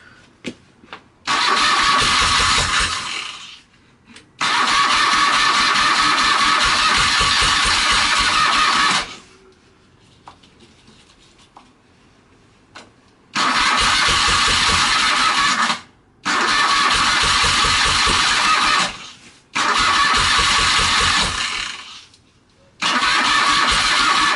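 A 1978 BMW R80/7 ex-police motorcycle engine cranks and fires in several loud bursts, each running a few seconds before cutting out, with quiet gaps between attempts.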